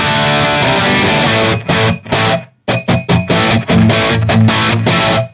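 Loud, distorted electric guitar through a Marshall rig playing chopped chords with short gaps, the room adding a slight ambient tail around each hit.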